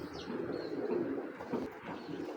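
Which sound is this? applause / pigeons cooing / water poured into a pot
pigeons cooing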